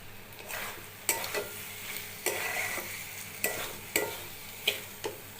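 Paneer and vegetables being stirred and fried with spices in a pan, with a steady low sizzle broken by regular sharp scraping strokes of the spoon, close and clear, without talk.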